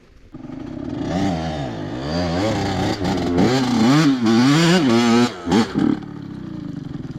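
Honda CR85 dirt bike engine revving hard on a steep climb, loud and close, rising and falling in pitch with throttle bursts and brief cuts near the end; someone shouts over it.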